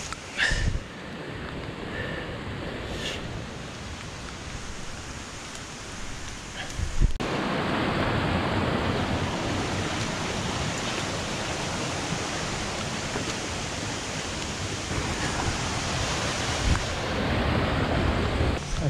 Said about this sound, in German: da unten ist der Fluss